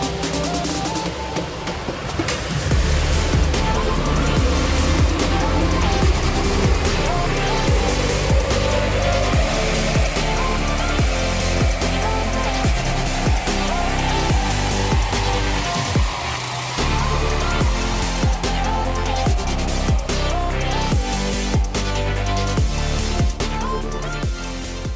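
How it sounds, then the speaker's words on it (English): A stock, untuned Toyota N80 Hilux engine runs up on a dyno, droning continuously and climbing steadily in pitch as revs rise over a long pull, with mechanical whine layered over the engine roar throughout. "Alright, so we've just run up the Hilux on the first run, pre-tuned, completely stock standard"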